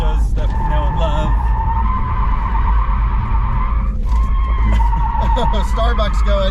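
A base Porsche Taycan RWD electric car drifts, its tyres squealing loudly and continuously in long, wavering screeches, with a brief break midway before the skid resumes.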